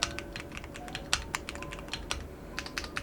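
Typing on a Keychron Q1 Pro keyboard with a metal body and tactile brown switches: a quick run of crisp, close clicks and clacks with a few sharper keystrokes, heard alone.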